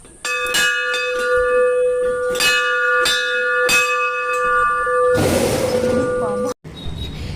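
A temple bell is struck hard several times at a steady pace, each loud metallic clang ringing on over the previous one, then a burst of broad hiss follows near the end.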